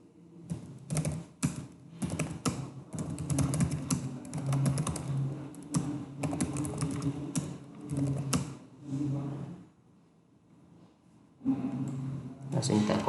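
Fingers type data on a computer keyboard in quick clicking bursts, close and clear, pausing briefly before resuming, while a person speaks over much of the typing.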